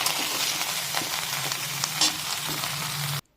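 Mixed vegetables frying in a pan, a close, constant sizzling hiss with faint stirring clicks, cutting off abruptly at the end.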